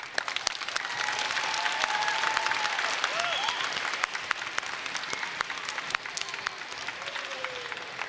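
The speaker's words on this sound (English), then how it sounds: "Can we get one more round of applause?" Sustained audience applause fills a school choral festival hall after an 8th grade choir performance, steady and fairly loud throughout, with scattered cheers and voices mixed in.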